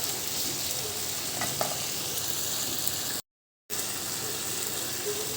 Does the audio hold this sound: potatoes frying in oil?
yes